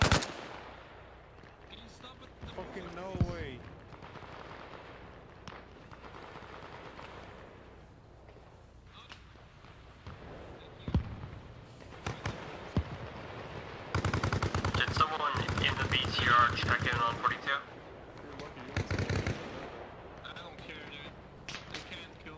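Gunfire nearby in Arma Reforger, with bursts of automatic fire and scattered single shots, loudest in a sustained stretch near the end, mixed with background game noise and a voice talking.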